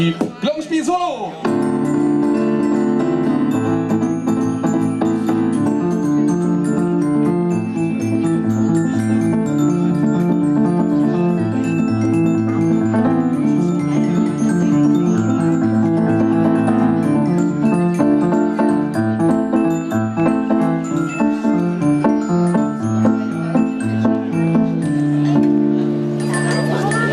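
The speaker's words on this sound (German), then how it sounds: "Glockenspiel Solo!" A glockenspiel solo at a live outdoor street festival concert in Münster, a continuous run of bright, ringing metallic notes over sustained band accompaniment, loud and steady across the whole passage.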